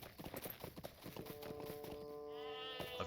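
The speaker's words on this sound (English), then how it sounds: "Shut up, sheep." Sheep bleating in the Lord of the Rings Online video game, a drawn-out, wavering bleat near the end following a run of rhythmic clip-clop hoofbeats, fairly faint.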